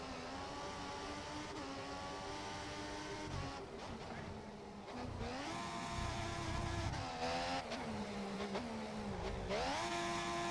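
Formula 1 race car in the video game F1 2014 at Sochi, a steady high-pitched engine whine that rises and dips as the car shifts gears automatically, continuous and loud throughout.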